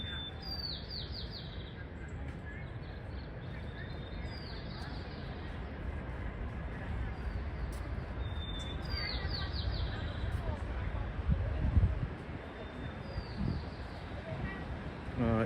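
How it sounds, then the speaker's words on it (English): Birds chirp and tweet in repeated short bursts over the steady hum of downtown San Francisco city traffic on a March evening, with faint background talk and murmur. "the birds do sound nice"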